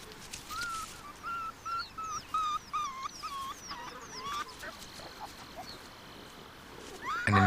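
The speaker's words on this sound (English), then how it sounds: "loud growls of disapproval from the vixen drive the dog fox away" A vixen and a dog fox in the Russian taiga give a run of agitated, high-pitched yelping and chattering calls, close and fairly loud, ending in a harsher burst.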